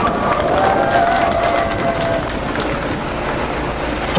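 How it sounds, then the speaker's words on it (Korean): An outdoor Korean election rally crowd in front of an apartment complex in Namwon claps and cheers for a campaign official, a loud, continuous roar of hands and voices with a whistle-like tone early on. "김영건 본부장님께 다시 한번 큰 박수 부탁드립니다."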